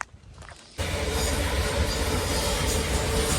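A moving train gives a loud, steady rumble with rattling wheel noise. It starts abruptly after a brief quieter moment and continues without a break.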